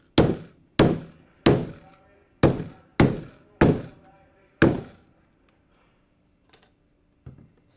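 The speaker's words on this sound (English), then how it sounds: "we're going to break off the plastic to unload the rivets into the guide block" Plastic strip snapped off a Flexco BR rapid loader of rivets over a guide block during solid plate belt fastener installation: seven sharp cracking snaps in quick succession, then two faint clicks, no talk.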